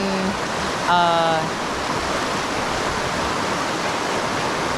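Khlong Phaibun Waterfall stream in Chanthaburi, a steady loud rushing of water filling the whole scene, with a brief tonal chirp or beep near the start over the constant flow.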